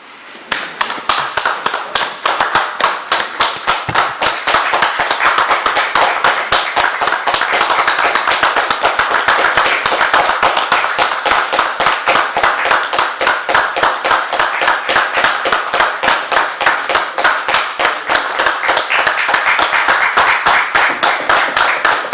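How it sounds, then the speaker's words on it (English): Members of a House of Assembly sitting give frontline workers a standing round of applause: steady, rapid clapping from a room of people, loud and sustained throughout without pause. "I would certainly like to join the British Parliament in that we stand for a minute to applaud the frontliners"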